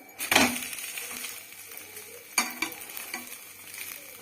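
A potato and egg fry is flipped in a pan over medium flame: a sharp scrape and clatter of the spatula, then steady close sizzling with a few more metallic scrapes, and nobody talks.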